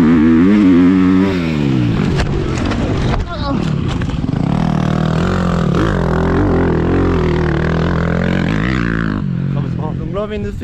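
Motorcycle riding a lap on a track, with the engine revving and shifting pitch up and down throughout, loud and close, under steady talk in French.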